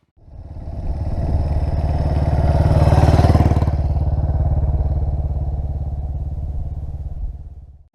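Vintage Norton 19S single-cylinder motorcycle with sidecar riding along a quiet country road in the Ingram Valley, its steady thumping engine loud and close, swelling slightly midway and holding a continuous even note throughout.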